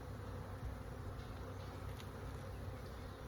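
Bees swarm around an opened beehive, a dense continuous buzzing drone that stays steady and close throughout with no talking.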